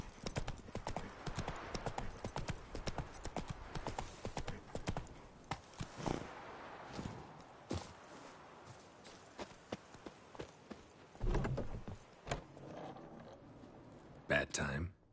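A horse gallops in The Witcher 3 video game, its hooves drumming in a quick, steady clip-clop close up, with occasional louder thumps and jostling gear noises.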